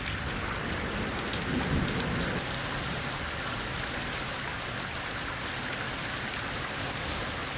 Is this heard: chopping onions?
no